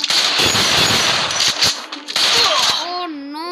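Rapid gunfire from a video game shooter with headshot hits, dense bursts of automatic shots close and loud throughout, with a brief lull near the middle before firing resumes and a rising tonal game effect at the end.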